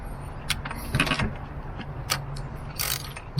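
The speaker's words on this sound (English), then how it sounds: "Once it gets a little harder, and you'll grab the ratchet." A ratchet tightens a spark plug on a 2010 Toyota Corolla S, giving a few brief close mechanical clicks and scrapes over low steady background hum, with no talk.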